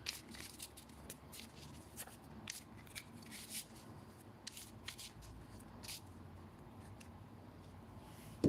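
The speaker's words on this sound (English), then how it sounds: "Then you give the deck a quick little shuffle." A Cardfight Vanguard card deck is shuffled by hand, giving a series of quick, close riffling flutters and soft slaps repeating at an irregular rhythm, faint and quiet with no talk.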